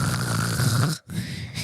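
A voice imitates loud snoring in a close, drawn-out rasp that breaks off abruptly for a moment before a quieter breath resumes.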